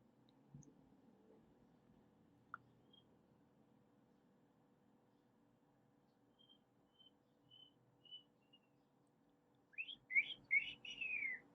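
Faint, sparse whistled notes drift in a quiet room, then a quick cluster of brighter, bird-like whistling chirps arrives near the end.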